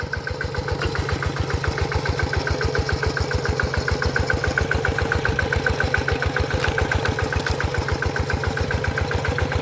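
A Kubota RT100 walk-behind tractor engine runs close by in a rice field, a loud, steady single-cylinder diesel chug with fast, even pulses continuing throughout, no voices.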